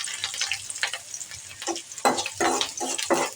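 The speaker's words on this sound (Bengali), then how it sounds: "এখন আমার মরিচগুলি ভাজা হয়ে গেছে, আমি দিয়ে দিব রসুন কুচিটা।" Chopped garlic and chillies crackle in hot oil on a stove, in uneven bursts of sharp sizzle as they are stirred, close and fairly loud with no voices.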